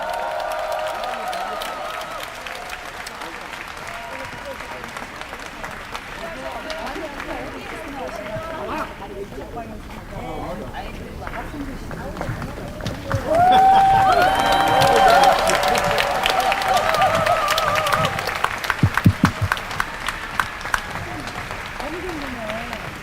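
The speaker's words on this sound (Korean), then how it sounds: "이 자리 큰 박수로 환영해 주시면 감사하겠습니다" A crowd's applause welcoming a speaker at a forum held at Seoul National University, steady clapping that swells and grows louder midway, with some cheering and crowd noise mixed in.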